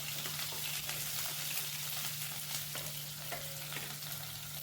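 Chopped onion frying in oil with cumin seeds in a half-covered pan, a steady hissing sizzle over a low hum, a few faint clinks, and no voices.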